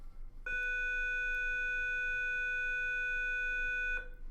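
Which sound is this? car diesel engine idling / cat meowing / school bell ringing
school bell ringing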